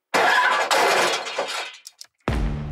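A crash sound effect of a car body hitting the ground after landing, a loud burst of crunching, smashing impact noise that decays with a few scattered debris rattles, then another heavy hit.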